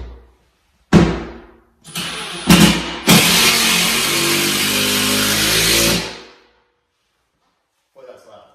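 A power driver sinks a screw into a wall stud while a floating vanity is installed: a few short trigger bursts, then one loud sustained whir lasting about three seconds before it stops, with brief quiet afterward.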